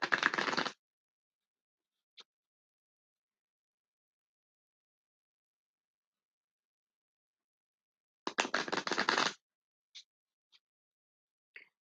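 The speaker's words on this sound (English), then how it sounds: "I'm doing one more shuffle," Tarot and oracle cards being shuffled in a quiet room: two short bursts of riffling, one at the start and one later, separated by silence, with a few faint taps and card clicks.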